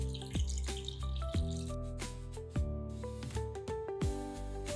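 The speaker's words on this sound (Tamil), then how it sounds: "இந்த உருளைக்கிழங்கு முழுகிற அளவுக்கு தண்ணி சேர்த்துக்கலாம்." Water splashes and drips into a pressure cooker holding cut potatoes, heard as irregular trickling and plinking bursts at close range, fairly quiet, with no voices.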